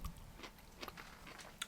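Crunchy gobo root in syrup from a Japanese bento is bitten and chewed up close, a handful of quiet, irregular crisp crunches over a soft background.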